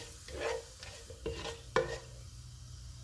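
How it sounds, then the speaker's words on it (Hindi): Whole spices (bay leaf, black and green cardamom, cinnamon, cloves and cumin) fry in a pan with a faint, steady sizzle, broken by a few scraping stirs and light clinks of a utensil against the pan. "इनको 30 सेकंड तक फ्राई करेंगे।"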